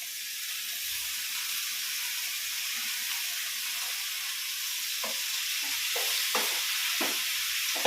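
Tomato and snake gourd curry being stirred in a pan, a continuous soft sizzle and hiss with a few short scraping strokes of the spoon toward the end.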